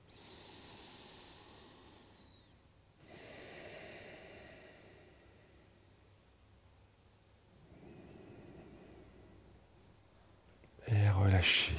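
Slow, deep breathing during a chair yoga session, long soft airy inhales and exhales in a few broad waves, close and quiet, followed by a louder burst of noise at the end.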